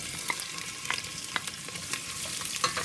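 Two onions and garlic sizzling in olive oil in a pot, a close, constant frying crackle punctuated by the repeated scrape and clack of a utensil stirring.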